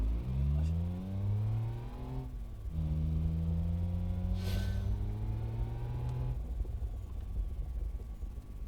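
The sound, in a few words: nitrous car accelerating in BeamNG.Drive video game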